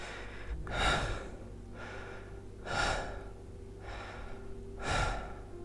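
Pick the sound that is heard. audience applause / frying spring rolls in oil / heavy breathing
heavy breathing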